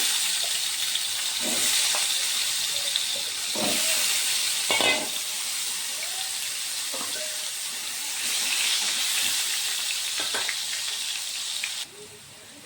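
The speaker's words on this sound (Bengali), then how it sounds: "প্রথমে আমি আলুগুলো ভেজে নিচ্ছি।" Potatoes frying in mustard oil give a steady, close sizzling hiss that continues throughout with slight swells and occasional stirring clicks, and no talking.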